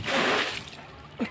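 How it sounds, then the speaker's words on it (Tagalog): A strong spring gushes and splashes nearby, a loud broadband rush of water that eases slightly before a brief burst near the end. "Kusog tubod oi. Maran tubig."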